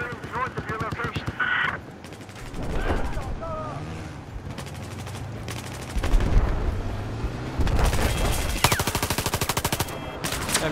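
Machine gun fire in Battlefield 4 on the Silk Road map, with bursts of rapid automatic shots, loud and close, recurring between pauses among other gunfire, while players talk over it.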